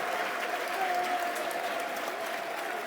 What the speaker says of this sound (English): Good applause for both players.